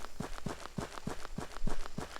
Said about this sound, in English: And we can hear footsteps.